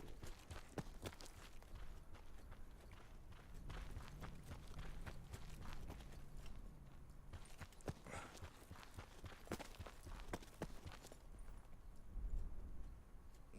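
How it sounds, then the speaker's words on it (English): Footsteps in the battle royale shooter Call of Duty Black Ops 4 Blackout, a steady run of soft thudding steps over a dense, noisy game background, close and continuous. "Was that the sound of my own footsteps?"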